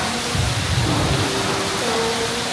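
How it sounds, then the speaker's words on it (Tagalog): Heavy, steady rain pours down outdoors in Boracay, a dense continuous wash of noise. "Pero biglang umulan. Tingnan nyo naman. Ang lakas na ulan."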